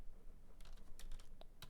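Keys clack on a computer keyboard while someone types Python code during a string-manipulation lesson: a handful of quiet, close keystrokes in an irregular, unhurried rhythm, alone over a faint background hum with no one talking.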